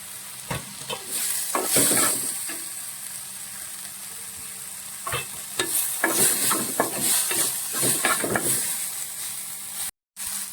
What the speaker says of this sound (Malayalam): ഇനി നമുക്കിത് നന്നായിട്ടൊന്ന് വഴറ്റിയെടുക്കാം. നമുക്കിതിലേക്ക് തക്കാളി കൂടി ചേർത്ത് കൊടുക്കാം.